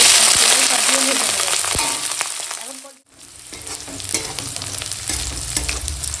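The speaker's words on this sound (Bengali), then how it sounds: "তো দেখো এখন পেঁয়াজ লঙ্কাটা এরকম হালকা ভাজা হয়ে গেছে" Chopped onion and slit green chillies fry in hot oil, a loud, dense close sizzle with stirring scrapes that dips briefly to near silence midway, then resumes more softly.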